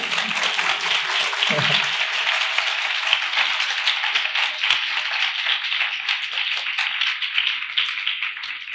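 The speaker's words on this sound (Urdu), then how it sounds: "اور آپ نے تالیاں بھی بجانی تھیں" A church congregation at a sermon claps in a long, sustained patter that holds steady for about nine seconds, with a brief low voice-like murmur near the start.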